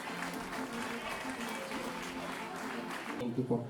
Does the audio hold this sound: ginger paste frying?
no